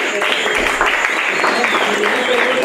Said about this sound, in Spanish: Un aplauso para Jorge.